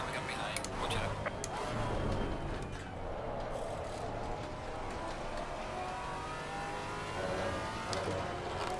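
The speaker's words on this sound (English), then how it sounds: "Faster car coming up behind." A GT3 race car in Assetto Corsa Competizione, on Watkins Glen, drones steadily as another car closes from behind. The engine whine is constant and moderately loud, with the passing car blending into the hum.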